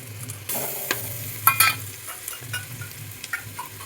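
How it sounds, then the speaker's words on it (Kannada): Ginger-garlic paste spits and sizzles in hot oil for a home-cooked village-style biryani, with spoon stirring scrapes and a few sharper crackles over a moderate, close frying hiss. "ಶುಂಠಿ ಬೆಳ್ಳುಳ್ಳಿ ಪೇಸ್ಟ್ನ ಆ್ಯಡ್ ಮಾಡ್ತಿದ್ದೀನಿ,"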